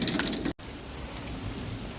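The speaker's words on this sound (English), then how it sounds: "Just a little bit of hail." Steady rain with a little hail pattering down on a Colorado farm, a dense continuous wash of drops close by with a brief dropout about a quarter of the way in.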